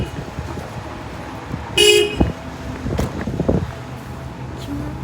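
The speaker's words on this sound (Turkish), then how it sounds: "Biri korna bastı." A car horn honks briefly on a street, followed by a couple of shorter toots, amid passing traffic and some outdoor noise.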